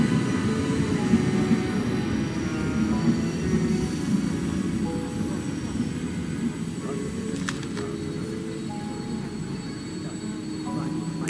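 A train idles at a station in the Orient Express mystery game, a steady low rumbling hum with faint squeals and clanks over it, while people talk softly in the background.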